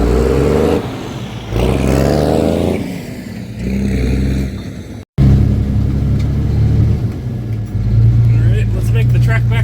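A diesel M11 Cummins engine in a dump truck rumbles loudly and steadily on a homestead driveway, with throttle surges and a brief cut midway before the engine noise resumes, while someone talks over it.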